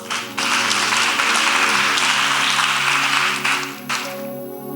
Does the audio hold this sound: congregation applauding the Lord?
yes